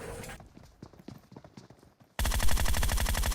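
Gunfire in the PUBG video game: scattered sharp shots and clicks at first, then a sudden loud burst of sustained rapid automatic fire that fills the rest of the clip.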